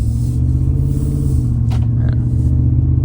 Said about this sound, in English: I can hear it idling real nice right now.